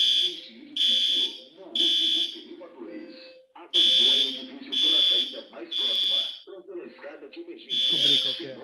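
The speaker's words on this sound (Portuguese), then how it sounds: "O alarme foi ativado neste edifício." A fire alarm goes off inside a building, sounding loud, high, evenly spaced beeps in a steady repeating pattern. A recorded voice announcement plays between the tones.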